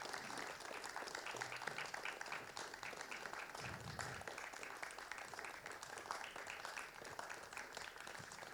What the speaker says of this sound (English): can we have a round of applause for Elizabeth